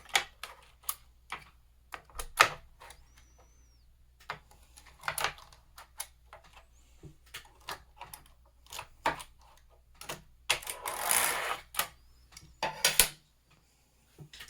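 A domestic knitting machine carriage is pushed across a row for a hemmed brim hat, giving a series of irregular clicks and clacks, then a louder rushing slide near the end, close and without talk.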